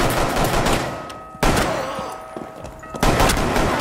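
Gunfire in Rainbow Six Siege during a Wild West–style showdown with deputies storming in: dense, continuous rattling shots with three sharp surges of louder volleys, close and intense throughout.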